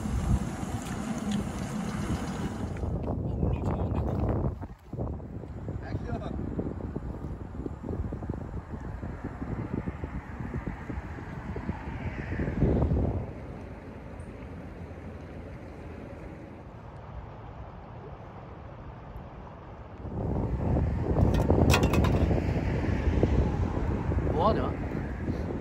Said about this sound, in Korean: 굉장히 바람 너무 많이 불어가지고